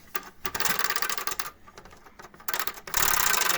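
A prize wheel of fortune spun at home, its pointer clicking rapidly against the pegs in fast rattling bursts that pause and resume, close and fairly loud.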